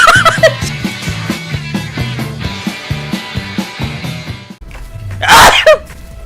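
A single loud, close sneeze bursts out near the end, following a stretch of rhythmic music with a steady beat.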